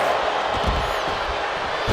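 Wrestling arena crowd filling the space with a dense, continuous roar of chanting and cheering voices, loud and sustained throughout.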